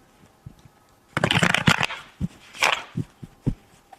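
Thick tarot cards being shuffled by hand, a few quick riffling bursts and soft taps up close, with quiet gaps between them.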